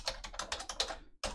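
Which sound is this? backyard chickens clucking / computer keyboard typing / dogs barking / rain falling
computer keyboard typing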